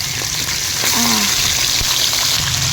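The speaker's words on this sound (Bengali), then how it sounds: "তো রুই মাছটা নুন হলুদ দিয়ে মেখে রেখে এখন আমি বেশ সুন্দর করে ভেজে নেব একদম" Rohu fish pieces coated in salt and turmeric sizzle loudly in hot oil in a village kitchen, a close, continuous crackling fry with brief spits and pops.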